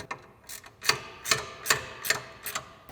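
A wrench ratchets on the front side step bolts of a 2021-2023 Ford Bronco, fitting Rough Country SR2 aluminum side step bars: about six crisp, evenly spaced metallic clicks, close and clear, with no voices.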